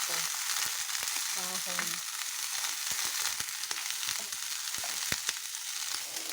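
Chayote shoots and tender leaves sautéing in a pan, giving a steady close sizzle and crackle throughout, with a few brief clinks and a short spoken word partway through.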